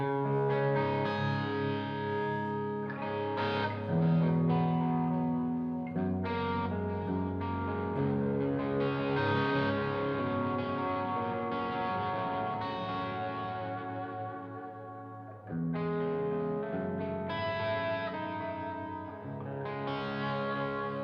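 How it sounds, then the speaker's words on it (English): A Chapman electric guitar, played through a Kraken with delay and reverb, rings out in sustained chords and melodic lines with echoing tails, distorted and spacious, close and alone with a brief pause mid-way. "So anyway, bit of delay and reverb, and I'll go through the pickup selection."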